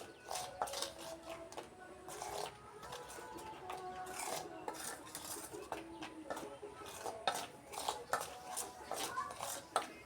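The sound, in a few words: mixing spices and ingredients together in a bowl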